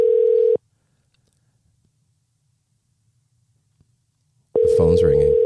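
A telephone ringback tone during a call sounds as a steady electronic tone, then a long silence, then the same tone again with a voice talking over it at the end.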